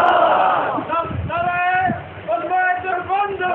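A large crowd chants slogans in loud, rhythmic unison at a 10 Muharram religious gathering in Bhakkar, the voices rising and falling together in sustained waves.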